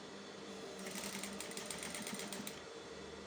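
Sewing machine stitching a fly zipper into a pair of trousers, running steadily as a continuous buzzing whir for a few seconds with no talking.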